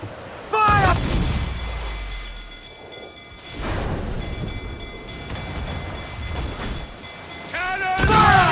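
Ship cannons firing in the pirate video game Assassin's Creed IV Black Flag: a few heavy, rumbling booms spread through the clip, with shouting crew voices at the start and end.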